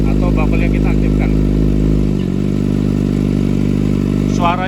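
Kawasaki ZX25R motorcycle idling with its exhaust baffle valve switched, a loud, steady engine hum that shifts and drops in tone partway through as the valve changes, with a short rev near the end.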